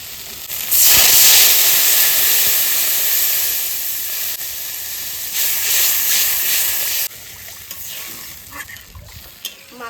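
Water poured into a hot pan of katla fish with salt and turmeric for a thin, sour fish curry: a loud sudden hiss that holds as steady steam for several seconds, then drops to quieter bubbling and stirring.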